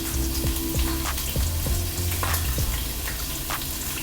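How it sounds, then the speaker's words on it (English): A sirloin steak sears in a hot pan with a loud, steady, close sizzle and crackle, with faint scraping and clinks over the top. "Leave the first side down first until it gets to sear."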